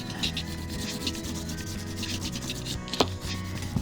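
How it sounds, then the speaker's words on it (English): A finger rubbing and smudging a drawing on paper makes a soft, close, repeated scratchy swishing in quick strokes, with a small tap near the end. "Again, some more finger rubbing, make that a little less distinct, a little more out of focus."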